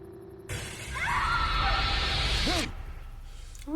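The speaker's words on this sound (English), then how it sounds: "I think it might have been like a car accident because of that glass shattering" Glass shatters in The Walking Dead video game, a loud, sustained crash of breaking glass lasting around two seconds and cutting off abruptly, set over low game ambience.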